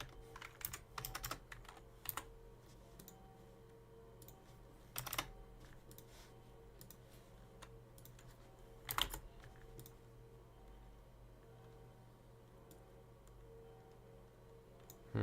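Computer keyboard typing while coding, quiet scattered keystrokes and occasional louder bursts of clicks over a faint steady hum, no talking.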